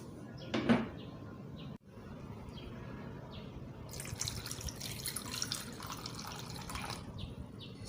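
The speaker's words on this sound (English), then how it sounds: "So I'm going to wash it thoroughly till it's clean." Tigernuts are washed in water, with a knock of a container or cupboard early on, then a running tap and sloshing, splashing water in a sink growing louder toward the end.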